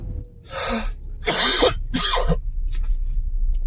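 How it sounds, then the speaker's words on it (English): Three harsh, raspy coughs close by, the middle one longest, followed by quieter breathy sounds over a low background rumble. "I'm going to have a lingering cough for a little bit"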